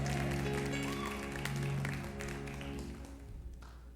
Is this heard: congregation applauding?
yes